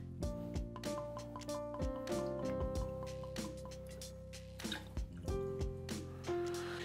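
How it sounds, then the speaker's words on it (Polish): Amaro Montenegro liqueur is poured for a Paper Plane cocktail, a close, steady gurgling stream whose pitch climbs as the vessel fills, with small drips and clinks throughout. "Następnie dodaję Amaro Montenegro."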